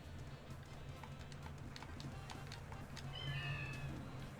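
A cat meowing in the video game Deltarune: a short, high mewing call near the end, over a steady game backdrop with light rhythmic clicks.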